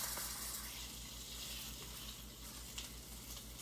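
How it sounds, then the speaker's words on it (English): Bacon sizzles steadily in a hot pan, a close, continuous crackle and hiss with a faint low hum underneath and no talking. "the secret to cooking perfect bacon"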